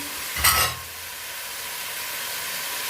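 Potatoes go into meat frying in masala for aloo gosht, giving one brief burst of sizzle and a clatter, then a steady soft hiss of frying that carries on close by.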